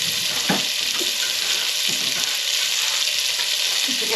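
Onions frying in hot bacon fat in a pan for a bacon and lentil soup, giving a steady close sizzle throughout with a few brief clinks of stirring or utensils.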